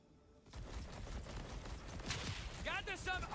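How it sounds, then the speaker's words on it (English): Cannons fire in a video game mission, a rapid stream of booming shots and rattling blasts that keeps going, with someone talking over part of it. "I forgot how OP cannons were on this mission."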